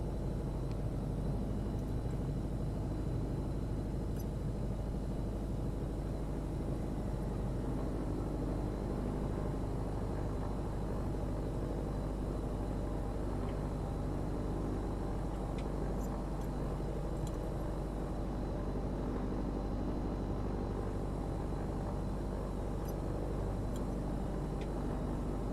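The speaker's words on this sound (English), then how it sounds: "This plane's pretty fairly quiet to hear too," Simulated Piper PA-28 Arrow III in flight on a route from San Francisco to Moffett Federal, a steady low engine and propeller drone that stays unchanged throughout, moderately quiet, with no voices.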